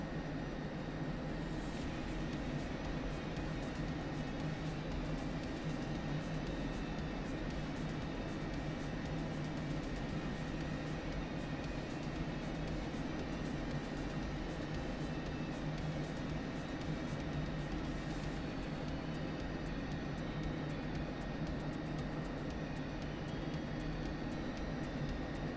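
An F-16 Viper jet taxis toward the runway in a flight simulator game. Its engine holds a continuous, even whine and roar at a steady level throughout, with no talking.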